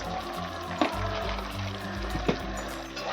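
Soybean masala seasoned with salt and a little sugar frying in a pan, a steady moderate sizzle with a couple of sharp spoon knocks against the pan as it is stirred.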